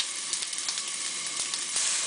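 Beer-soaked bacon fries on a stone grill with a close, steady sizzle and occasional small pops and crackles throughout.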